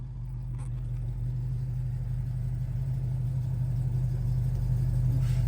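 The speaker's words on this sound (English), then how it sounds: "you can actually hear that engine through the window" A Dodge Charger's engine idles steadily, heard muffled through a car window as a continuous low rumble that stays fairly quiet and even throughout, with no talking.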